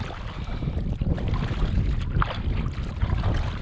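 Strong headwind buffeting a canoe on a Boundary Waters lake, a loud continuous rushing gust with rumbling microphone wind noise and faint water lapping.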